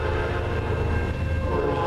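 A CN northbound freight train led by an EMD locomotive passes close by in Ladysmith, a loud continuous roar of engine and rolling cars that fills the whole moment without a break.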